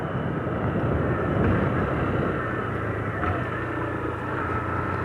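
A motorcycle engine runs with a steady, loud mechanical drone and a slight swell in the middle, heard close by with no clear rev spikes, amid outdoor background noise.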